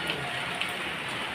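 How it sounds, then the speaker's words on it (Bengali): Heavy rain pours down outside during a storm, a steady, even hiss of falling water with no break, heard at moderate volume. "দেখো জোরে বৃষ্টি শুরু হয়েছে"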